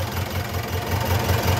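A rebuilt engine in a 1980s Ford F-4000 truck idles steadily with a low, even throb, its rhythmic pulsing close and moderately loud with no talk over it.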